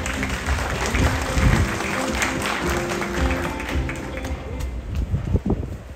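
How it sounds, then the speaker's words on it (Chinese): Audience applause rolls steadily through a factory opening ceremony, a dense crowd clapping loudly in a large space with some microphone wind noise, swelling and easing without letup. "掌声有请王副市长。"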